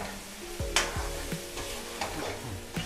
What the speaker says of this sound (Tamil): நெய்யில் இப்போ நல்லா வறுக்கணும், வதக்கணும், சுருளில் வதக்கணும்.